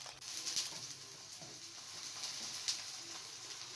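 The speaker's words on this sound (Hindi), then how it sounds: "अब मैं इनको घी में फ्राई कर रही हूँ" Chapli kebabs topped with tomato and green chilli fry in ghee in a pan, giving a steady close sizzle with scattered crackling pops throughout, no voices.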